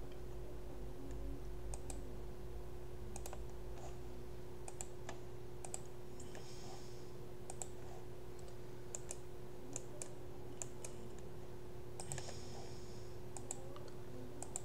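Computer mouse clicks sound as sharp, light, isolated ticks scattered at irregular intervals, quiet and close, over a steady low electrical hum.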